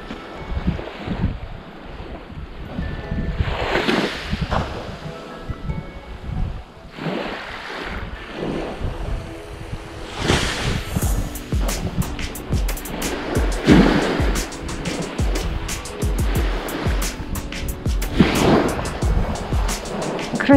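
Sea waves wash onto a winter beach at Vitiazevo, with soft repeated surges and wind noise over a steady background of surf.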